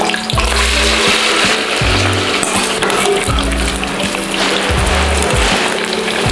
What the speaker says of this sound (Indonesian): Selanjutnya umbi talas ini akan kita goreng sebentar.